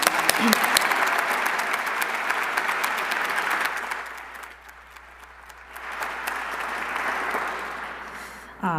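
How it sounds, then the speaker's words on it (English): An audience at a city State of Our City address gives the color guard a sustained round of applause, loud and dense at first, dipping briefly midway, then swelling again before fading. "let's give another round of applause to our color guard"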